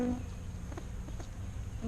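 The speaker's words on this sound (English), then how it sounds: "we've got a bee crawling on the camera" A honeybee buzzes close by at an open beehive while frames are swapped during a super addition, a steady faint insect drone with brief louder passes near the microphone and no talking.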